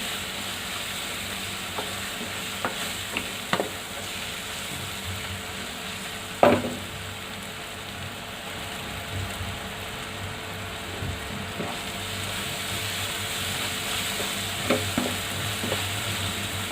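Ground spices frying for paneer keema, with scattered soft scrapes and clicks of stirring over a steady low sizzle, one sharper knock midway; no voices.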